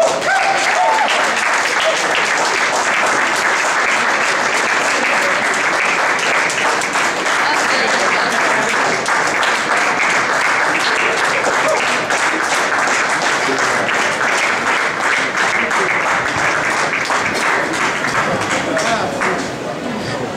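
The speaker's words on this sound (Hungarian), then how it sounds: "hatalmas taps, még egyszer" An audience applauds continuously and loudly after an acoustic concert, the dense clapping holding steady for the whole stretch with a few voices mixed in.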